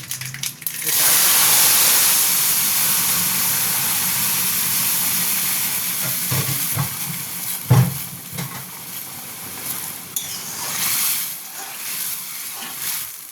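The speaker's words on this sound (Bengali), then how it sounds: "আর কালো সরষের ফোড়ন দেব।" Black mustard seeds sizzling in hot oil for tempering a sambar, a loud, broad hiss that swells at the start and then settles into a steady frying sound with a few clunks near the end.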